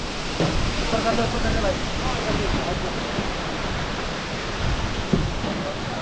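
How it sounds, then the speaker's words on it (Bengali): A natural mountain waterfall on the Amarnath Yatra trail gives a steady broadband rush of falling water at moderate distance, with faint voices and a few brief knocks over the constant roar. "ঝর্ণা"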